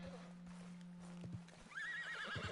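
A horse in the video game Red Dead Redemption 2 lets out a wavering whinny in the second half, moderately loud and close, after soft ambient noise and light hoof thuds.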